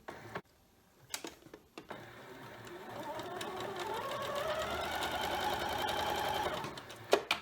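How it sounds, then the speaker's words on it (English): A sewing machine stitches squares of a scrappy quilt block, starting with a few short bursts and then running a steady, rising whir for several seconds before a final clunk. "bring it up to the machine and sew"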